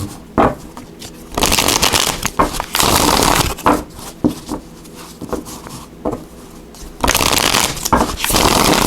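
Tarot cards are shuffled in several quick riffling bursts, crisp and close, separated by short pauses of quieter handling.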